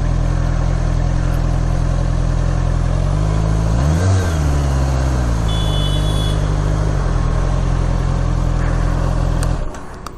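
A Honda CBR650 superbike engine idles with a steady low drone, rises in a quick rev near the middle, settles back, then cuts off sharply at the end.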